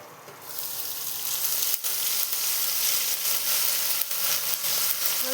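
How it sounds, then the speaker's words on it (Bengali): Small diced potato pieces fry in hot oil with a steady, dense sizzle close by, rising slightly after the first half second and holding loud and even, broken by a few faint scrapes. "আলুটা হালকা ভেজে নেব"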